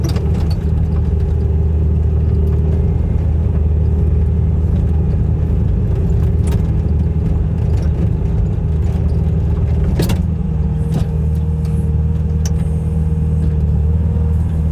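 A skid steer loader with nearly 2,500 hours on it idles on a farm with a steady low diesel rumble, close and continuous, with a few faint clanks over it.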